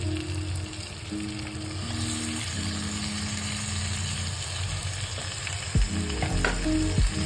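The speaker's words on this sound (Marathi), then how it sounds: "ह्याच्यामध्ये आपण टमाटर टाकणार आहोत पहिले" Tomatoes go into cooked masala in hot oil for a potato, tomato and onion bhaji, giving a loud, constant sizzle over a low steady hum, with a few clattering bumps toward the end.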